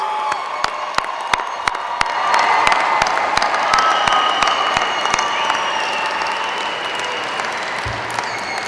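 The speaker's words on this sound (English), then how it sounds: "Will the audience please join us in another round of applause to recognize our graduates?" Sustained applause from a large audience at a high school graduation ceremony, steady and dense throughout, with a few louder claps standing out near the start.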